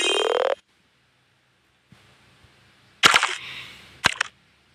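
Guns fire in the mobile game Kick the Buddy: a sharp burst at the start, a faint tap, then a loud crack with trailing rattle and a final pair of quick shots, separated by near silence.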